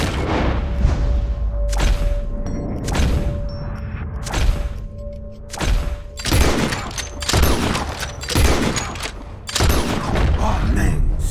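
Gunfire in Red Dead Redemption 2 as players shoot at flying birds: a rapid series of loud, sharp shots and booms over a low game ambience, with a voice talking between them.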